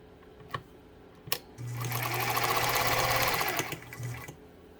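Pfaff 230 sewing machine stitching in a steady, close mechanical run of about two and a half seconds, with a low motor hum under rapid needle clatter, preceded by a few sharp handling clicks and taps.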